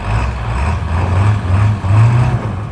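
A diesel truck engine idles and rumbles steadily up close as the truck, in four-wheel drive with manual hub lockers, is put into first gear, the low drone swelling slightly in a couple of places.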